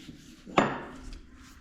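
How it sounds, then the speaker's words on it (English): A single sharp hammer blow rings out on the front axle knee of a John Deere two-cylinder Dubuque standard tractor during disassembly, one metallic strike followed by a short decaying ring in a quiet shop. "I'll probably do one or two more hits, then we'll switch out to hitting the other way."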